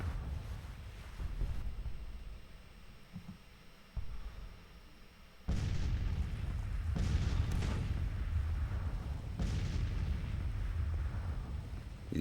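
Low booming blasts of artillery fire roll across a Civil War video game battlefield, with several heavy thuds after a lull, over a constant wind-like rumble.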